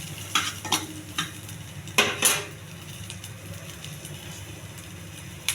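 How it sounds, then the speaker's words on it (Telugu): A spoon scrapes and taps repeatedly against a pan as onions fry with a soft steady sizzle underneath, several sharp strokes early on, then mostly the quiet hiss. "కొన్ని ఉల్లిపాయలు, కొంచెం బాగా ఎగనివ్వాలండి"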